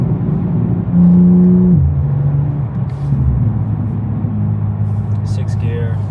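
A BMW G87 M2 with an OPF delete midpipe rumbles with a deep exhaust note on a cold, wet drive, with a strong rev swell early before settling into a steady cruising drone, and someone talks over it.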